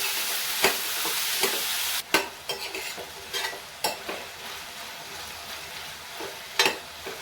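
Bell pepper, onion, tomato and soaked soybean pieces sauté over high gas flame in a pan with a steady sizzle, punctuated by sharp scraping stirs and clinks of a spoon against the metal.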